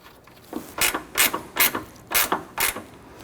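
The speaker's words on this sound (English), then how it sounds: "I'm going to go ahead and install the nut here." Nut being tightened with a ratchet on a 1992-1996 Toyota Camry headlight, five or six quick clicking ratchet strokes in even rhythm, close and clear with no talking.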